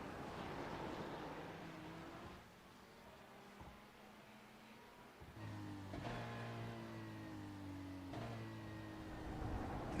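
On-board race car engine from a sim racing game at Road America, the engine revving up through the gears with sharp drops at shifts, the pitch climbing steadily, moderately loud and alone.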